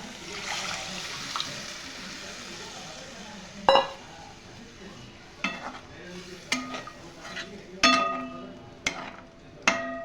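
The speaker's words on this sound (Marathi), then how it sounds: "आता आपण ह्या शेंगा शिजवलेल्या आहे ना ते टाकू" Cooked beans tipped into fried masala in a pot, giving soft stirring and scraping sounds with a light sizzle and a few sharp clinks of a spoon against the metal pot.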